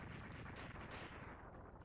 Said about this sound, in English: Again, with the long explosion.